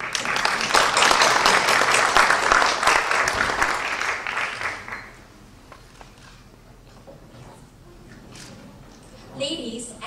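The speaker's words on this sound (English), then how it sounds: "Please welcome them with a great round of applause." An audience applauds warmly for WAAEO representatives at a Korean culture performance at Mt. SAC college, dense clapping that fills the room and then thins to scattered claps.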